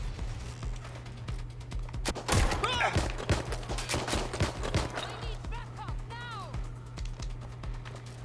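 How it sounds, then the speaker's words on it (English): Rapid bursts of gunfire in the video game Watch Dogs Legion, a loud cluster of shots followed by scattered single rounds amid a busy firefight. "That was definitely not the best shooting"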